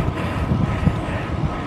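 An AirAsia airliner takes off from the KLIA runway, a steady broadband jet roar heard from a distance and mixed with strong wind buffeting the microphone, with no talk over it.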